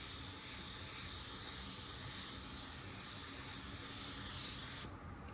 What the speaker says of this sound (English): I wanna throw just a little color over the areas that I sanded